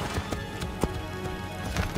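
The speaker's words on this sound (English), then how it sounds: "Faster to travel by horse." Horse hooves clip-clop in a quick galloping rhythm in the video game Assassin's Creed Brotherhood, with steady repeated hoof strikes under a continuous game soundscape and no talking.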